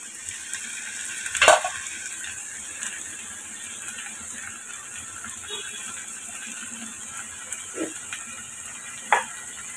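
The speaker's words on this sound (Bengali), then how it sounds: "এখন দেখুন পুরো আলু এবং ডালগুলো আমার একদম নরম সফট হয়ে আসছে। এবং প্রায় পুরো মশলার সাথে খুব ভালো করে সুন্দর কষে আসছে।" Potatoes and lentils fry with spices in a pan, a low steady sizzle broken by a few sharp spoon clacks and scrapes spaced several seconds apart; nobody talks.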